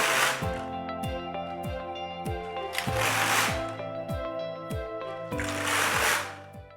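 A Singer Solo hand knitting machine knits ribbing rows, its carriage sweeping back and forth in a steady rhythm of rattling, whooshing passes, each pass closing with a clack of the needles.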